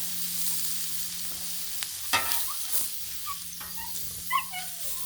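A breakfast sandwich cooks on a Blackstone griddle with a faint, steady sizzle, broken by a few scrapes and taps of a spatula and some high whimpering squeaks that sound like a dog nearby, with no talk.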